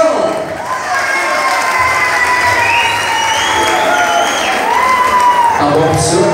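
A crowd at a live DJ event cheers, whoops and claps continuously, with loud shouts rising over sustained applause and an announcer's voice carrying above the noise.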